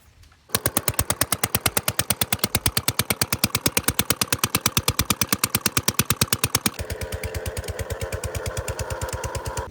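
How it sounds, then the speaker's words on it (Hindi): A tractor engine runs in a farm field, pounding out a fast, loud, regular chugging beat that shifts to a slightly rougher, busier tone near the end, with no talking. "ट्रैक्टर लेके मैं आ गया हूँ खेत में"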